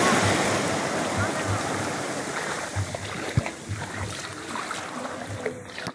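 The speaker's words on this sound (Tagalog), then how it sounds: "Laki ng alon." Loud, continuous rush of big ocean waves crashing and churning at a beach in Real, Quezon, a steady roar of surf with faint voices in the background.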